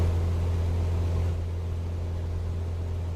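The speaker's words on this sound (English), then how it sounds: "You can hear the engine picking up." Aircraft engine in Microsoft Flight Simulator 2024 drones steadily with a strong low hum and broadband roar, holding loud and even throughout with no talk.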